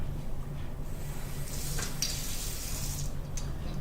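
Tap water running steadily into a sink in a chemistry lab for rinsing, a continuous soft hiss and splash with small fluctuations, fairly quiet and without speech.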